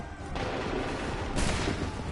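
A musket volley fired on command in Assassin's Creed 3: a dense, crackling burst of many shots at once, followed by a second ragged wave of reports a moment later.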